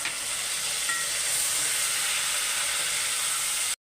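Steady, loud sizzling hiss of ginger and garlic frying in a hot pan after a little water is added, continuous for several seconds before cutting off abruptly.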